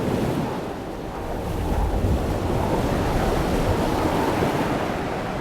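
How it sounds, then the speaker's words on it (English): A full gale of 40–45 knots roars steadily over surf on an island shore, with dense, loud, continuous wind and breaking-wave rumble buffeting the microphone throughout, no voices. "It's a 40, 45 knot wind blowing"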